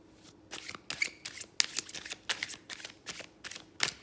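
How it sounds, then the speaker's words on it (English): Tarot cards are shuffled hard in quick, crisp riffling bursts, about a dozen sharp ruffles in close succession, near and fairly loud. "Good hard shuffle."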